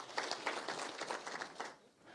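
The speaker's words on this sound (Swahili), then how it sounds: "Pigeni makofi." Audience applause greeting a National Assembly leadership announcement in Kenya, a dense, steady patter of many hands clapping at moderate volume for about two seconds, then thinning out near the end.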